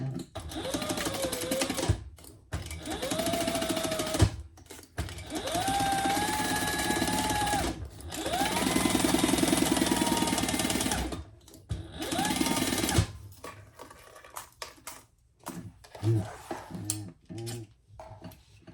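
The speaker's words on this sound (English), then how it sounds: "Now we're going to stitch that at the seam allowance in the pattern." Sewing machine stitching a seam through fabric for a handbag, several long runs of fast whirring stitching with rising motor pitch, separated by short stops, then a stretch of scattered clicks and handling sounds, close and loud.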